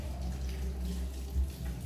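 Water gushes strongly from a household tap in a steady, close, unbroken rush with no talking.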